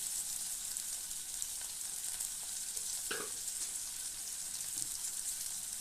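Garlic cloves and cut tomatoes frying in a pan for a roasted gram chutney, a soft steady sizzle with a brief clink of stirring partway through.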